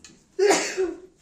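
A single sharp sneeze-like burst, close and fairly loud, rises suddenly and tails off within about a second, heard alone during a board game session.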